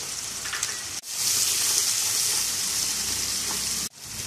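Red chilli, coriander powder, turmeric and salt fry in oil in a pan for dal mash, a loud, dense sizzle that runs continuously, cut off briefly twice.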